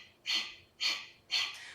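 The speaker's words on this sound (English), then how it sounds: "exhale like this" Three forceful breath exhalations, sharp and hissy, come in an even rhythm about half a second apart, close and fairly quiet during a core breathing exercise.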